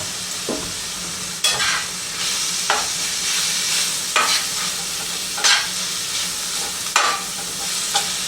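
Ground beef browning with Southwest seasoning in a hot pan for beef flautas, with loud, constant sizzling broken by a sharp stirring scrape every second or two.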